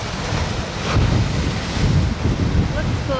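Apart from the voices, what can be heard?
ocean waves on pointy rocks in Hawaii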